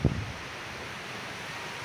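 Sea waves wash at the seashore as a steady broad surf hiss, partly mixed with wind against the microphone, after a brief thump at the start.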